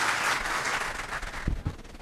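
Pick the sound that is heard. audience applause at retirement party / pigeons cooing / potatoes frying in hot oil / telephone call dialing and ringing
audience applause at retirement party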